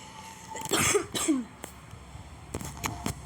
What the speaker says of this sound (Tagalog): Hayaan nyo na kung may ubo ako guys.